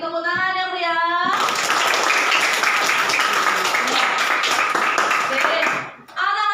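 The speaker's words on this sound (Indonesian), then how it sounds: "Beri tepuk tangan yang meriah." Children in a classroom break into loud, continuous clapping for several seconds, bracketed by a teacher's voice at the start and end.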